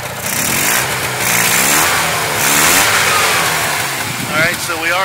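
A fuel-injected Subaru 360 engine runs steadily close by, a buzzing mid-pitched drone that swells and eases slightly as the revs shift, with a voice speaking over it.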